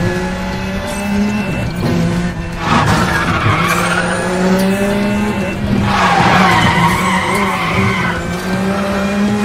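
In the Need for Speed The Run video game, a car drifts with loud, continuous tire squeal and skidding over a revving engine, the screech rising and falling in waves for several seconds.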